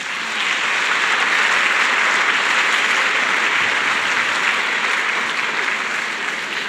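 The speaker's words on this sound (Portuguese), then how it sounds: "aplaude essa palavra" A church congregation applauds steadily at a sermon during a week of prayer, a dense, sustained wash of many hands clapping at close range throughout, with no voices rising above it.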